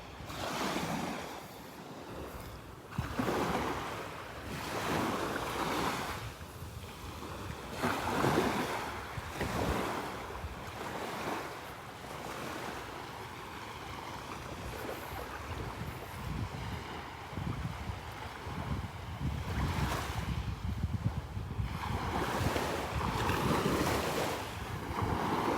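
Small ocean waves breaking on the beach at Delnor-Wiggins as the tide turns, repeated soft surges and washes through steady wind noise, with no talk.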